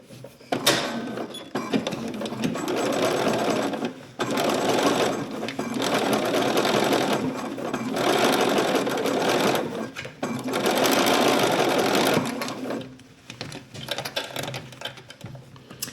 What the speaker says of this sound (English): stitch it down across the top of the welt